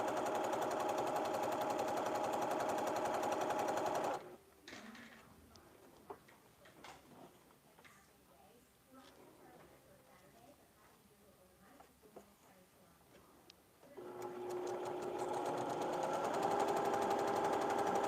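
A sewing machine runs in a burst of rapid stitching while chain piecing quilt pieces, a steady mechanical whir with ticks that sits between stretches of louder room sound and stops after about ten seconds.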